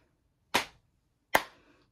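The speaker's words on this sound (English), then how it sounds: "Patting my knees and clapping." Two sharp, close percussive slaps about a second apart, a body percussion rhythm of patting knees and clapping, heard alone in a quiet room.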